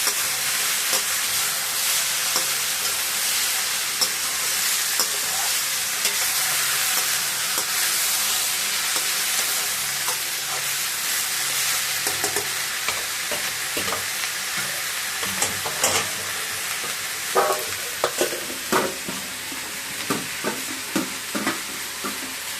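Tomatoes and green chillies fry in a pan for Andhra green chilli tomato chutney, giving a steady close sizzle throughout, with scraping and stirring clicks that grow more frequent toward the end.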